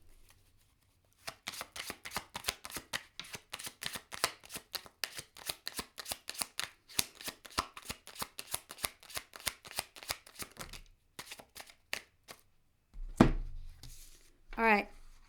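Tarot cards are shuffled close by in a quick, steady run of crisp riffling slaps that lasts about ten seconds, followed by a few scattered card taps and a brief voice.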